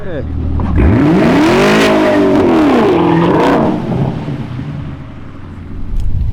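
A car accelerates while drifting on a skid pad, the engine revving up and down in loud sweeping surges with tire noise, then settling lower before climbing again near the end.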